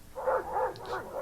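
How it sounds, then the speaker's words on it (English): A reactive dog on a leash gives a quick run of several barks, loud and close, with a threatening tone and no talk over it. "He's barking, threatening"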